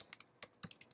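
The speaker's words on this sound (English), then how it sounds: "I'm going to go ahead and just type out something very simple like hello," Quick clacking keystrokes on a computer keyboard while typing a simple HTML page, several close, soft taps in an uneven rhythm with no talk.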